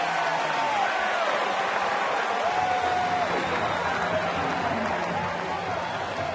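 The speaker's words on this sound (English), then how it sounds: "Listen to this crowd" Baseball stadium crowd roaring and cheering after a sacrifice fly brings in a run, a broad sustained wash of noise with a broadcaster's voice talking over it.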